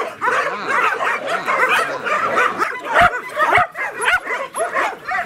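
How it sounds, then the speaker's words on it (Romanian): A female dog yips, barks and whimpers in quick excited bursts close by, with other dogs likely mixed in and some faint human talk underneath. "Uite, asta e o cățelușă."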